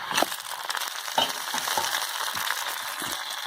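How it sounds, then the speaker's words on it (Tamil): Onions sautéing in a pan, a continuous crackling sizzle with irregular scraping stirs breaking through at close range and no voices present. "நல்லா வெங்காயத்தை வதக்கிக்கோங்க"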